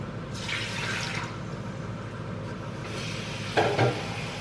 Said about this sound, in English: And then you want to rinse it or like wash it.